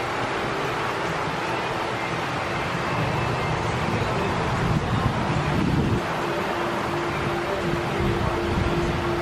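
Strong wind buffets an outdoor mini golf course, a steady loud rushing roar that swells slightly midway and never lets up.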